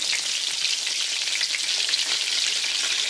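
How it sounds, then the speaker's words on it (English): Holland schnitzel, a Czech breaded cutlet, frying in a pan of hot oil, giving a steady, dense sizzle that holds evenly loud and close throughout with no talk over it. "Now I will fry it for another 5 minutes."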